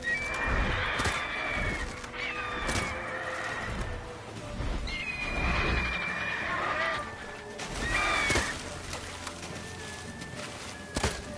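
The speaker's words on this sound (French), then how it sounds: "Merde, j'ai tiré sur le cheval." A horse whinnies and neighs repeatedly after being shot in The Witcher 3, the shrill calls rising and falling over hoof clatter and background game sounds, with someone talking in places.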